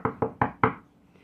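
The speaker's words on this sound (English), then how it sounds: "Along came a wolf and knocked at the door." Four sharp knocks on a wooden door in quick, even succession, loud and close, followed by a brief quiet tail.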